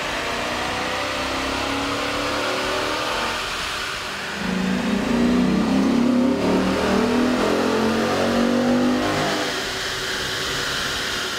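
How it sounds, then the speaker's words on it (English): A Dodge Magnum 5.7L V8 fitted with a K&N air intake revs on a dyno. A steady, loud engine drone climbs into a stronger rev around the middle and holds before easing back, with no talking. "With the air intake installed, we ran the vehicle on the dyno to test the sound comparison versus the stock intake."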